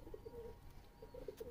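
Soft, low Malwai pigeon coos, a few short murmuring calls repeating quietly against faint background noise.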